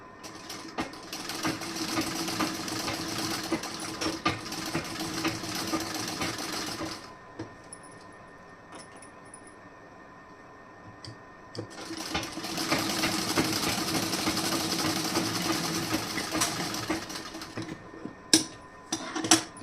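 A sewing machine stitches a blouse in two close, steady bursts of rapid whirring, separated by a quiet pause of a few seconds, with a few light clicks at the end.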